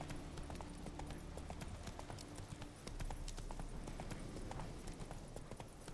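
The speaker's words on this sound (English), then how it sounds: "The soft pitter patter of Roach's feet on the wide open road." Horse hooves clip-clop steadily on a road in the video game The Witcher 3, a brisk continuous rhythm of hoof strikes, faint and low in level.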